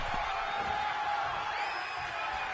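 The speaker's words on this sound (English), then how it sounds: "The crowd is going wild" A crowd at a fight cheers and roars continuously, a dense wall of whooping voices that stays loud and steady for the whole stretch.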